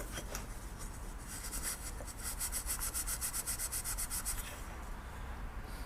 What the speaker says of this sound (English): sanding down here on the bottom edge, just to see if we could sand that rust smooth